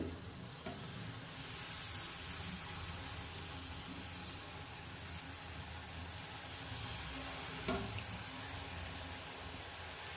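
Murukku frying in a pan of hot oil, a continuous dense sizzle and bubbling hiss heard close, with a couple of faint clicks and no talk.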